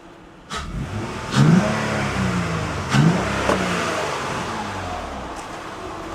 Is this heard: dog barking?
no